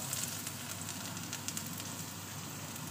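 Meat for fried noodles sautés in a pan with a steady, soft, even crackling sizzle, faint and continuous throughout with no talking.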